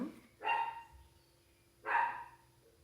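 A dog barks twice in a quiet indoor setting, two clear separate barks about a second and a half apart, moderately loud and alone without talk.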